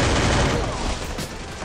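Gunfire from the video game Free Fire, dense, rapid shots from an automatic weapon, fairly loud and continuous for about a second and a half.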